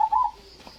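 A perkutut, or zebra dove, gives one short, clear coo at close range, followed by quiet background.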